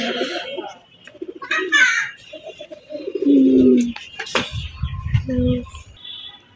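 Low, throaty cooing from pigeons close by, several rolling coos mixed with rustling and a brief faint voice.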